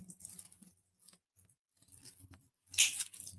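Scissors or snips cutting a stem for a cross wreath, a few quiet close clicks and rustles with gaps of silence, ending in a louder sharp snip and crackle.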